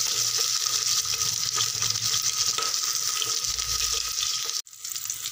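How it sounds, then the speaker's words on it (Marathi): Liver sizzles steadily in hot oil in a pan, a loud continuous frying hiss close up, briefly broken by a clatter near the end. "हे बघा कलेजी आपण व्यवस्थित फ्राय करून घेऊ।"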